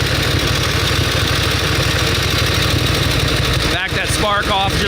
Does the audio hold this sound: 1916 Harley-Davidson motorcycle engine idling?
yes